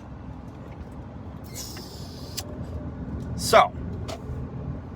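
Inside a moving car, a steady low road rumble continues throughout, with a few short rustles and a clunk partway through. A person starts speaking briefly near the end.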